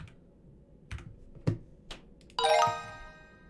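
A few separate keystrokes tap on a computer keyboard, close and crisp, while a mixed number is entered on a maths practice site, followed by a bright ringing chime.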